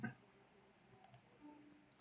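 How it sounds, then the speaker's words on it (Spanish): A computer mouse gives a quick double click, faint and close at a desk, with low, quiet speech in the background. "Doy doble clic y lo cambio aquí"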